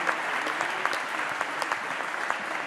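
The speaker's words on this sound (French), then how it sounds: "Je vous demande d'applaudir l'ensemble de nos participants." Conference crowd at a Paris event on environmental transition and business transformation applauds the participants, a steady, fairly soft patter of many hands sustained throughout.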